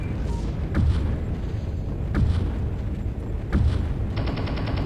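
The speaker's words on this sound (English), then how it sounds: "That is their power station I'm shooting at." Heavy gunfire and booming cannon shots in Urban Assault, aimed at an enemy power station: three or four loud thudding blasts spaced about a second and a half apart over a constant rumbling drone, ending in a pulsing electronic tone.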